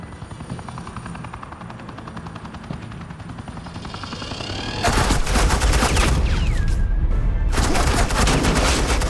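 Rapid bursts of automatic gunfire in the Batman: The Enemy Within game, starting after a steady helicopter-like engine drone and then crackling loud and dense over the rotor noise until the end.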